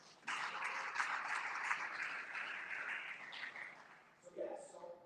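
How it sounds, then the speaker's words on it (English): A round of applause from the audience at a speaker series event: dense, even clapping swells quickly, holds for a few seconds, then thins out and fades. "Let's give them a round of applause."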